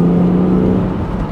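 Interior view of a BMW Z4 fitted with a sound generator mod, the engine droning as a loud, steady low hum with a faint whine, close and unbroken throughout the short stretch, no voices.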